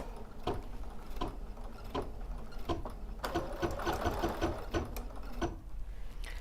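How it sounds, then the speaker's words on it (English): A sewing machine stitches wool couching embroidery, running steadily and close for several seconds with a few brief pauses and small mechanical clicks, with no voices. "now I can lower my foot and start to sew"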